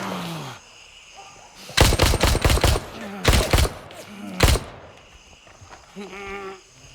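Bursts of automatic gunfire in the tactical shooter Gray Zone Warfare, loud and close, firing in three rapid volleys separated by short pauses, with game effects and faint background sound between them.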